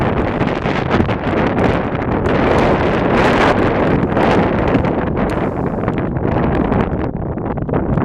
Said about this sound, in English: we got a westbound double stacker this time.